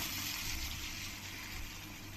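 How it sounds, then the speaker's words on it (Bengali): Water poured into a pan of Bengali rohu fish curry with potatoes, a steady, faint rushing splash that runs without a break over the short stretch. "এবার আমি জল দিয়ে দেব।"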